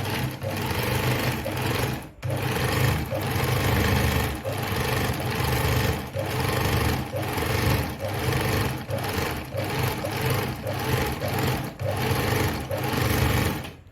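A Veritas Zickzack 8014/29 sewing machine runs steadily, stitching a zigzag pattern with its fast mechanical whir and needle rhythm close up, broken by one brief pause near the start.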